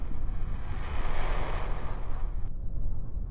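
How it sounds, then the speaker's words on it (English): Broad, steady rush of video game ocean surf with wind, continuous and fairly loud, swelling slightly in the middle before easing off. "Sounds of the ocean."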